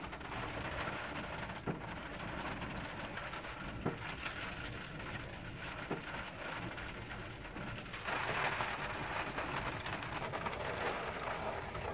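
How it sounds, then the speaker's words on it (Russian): Steady rain falls outdoors during bean sowing with a tractor and pneumatic seeder, a dense constant patter that swells slightly louder near the end, with faint distant rumbles. "у нас пошел дождь"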